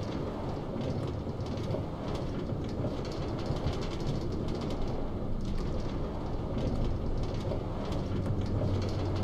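Steady rumbling Minecraft train ride with a continuous low roar and faint rhythmic clatter, carrying on evenly throughout with no talking.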